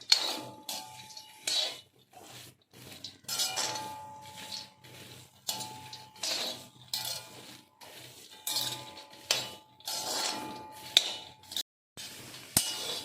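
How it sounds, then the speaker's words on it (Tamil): Peanuts are stir-roasted with salt in a heavy iron pan over a high flame. Repeated scraping and clinking strokes of the spatula against the pan come in an irregular rhythm, close and fairly loud, with no talk. "ஸ்டவ்வை ஹை ஃப்ளேம்லேயே வச்சுட்டு கையெடுக்காமல் நம்ம வறுத்துட்டே இருக்கணும்"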